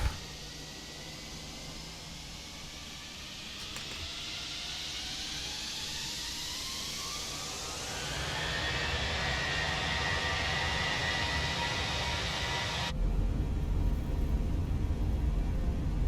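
Airbus A320 airliner jet engines (IAE engines) in Microsoft Flight Simulator spool up steadily, a broadband roar with a rising whine that grows louder and holds at a sustained, close, powerful level.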